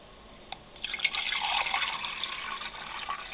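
Water poured into a measuring cup: a brief drip, then a steady close splashing pour of about two cups that builds and runs on for a couple of seconds, fairly quiet with no talking.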